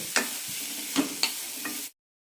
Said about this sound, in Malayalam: നന്നായി വഴറ്റിയെടുക്കാം പീസുകൾ ചെറുതായൊരു ബ്രൗൺ കളറാവണം അതുവരെ വഴറ്റാം